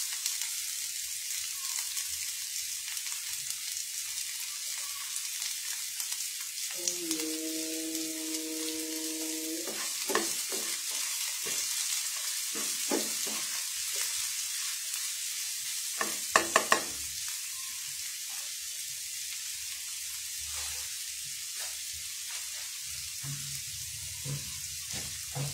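Green chillies and loitta dry fish fry in a pan with a steady close sizzle, broken by a few brief scrapes and clacks of stirring.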